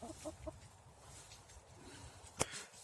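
Young hens cluck in a village chicken coop, with a few soft clucks early on and one sharper squawk near the end, heard faintly at a distance with no talk.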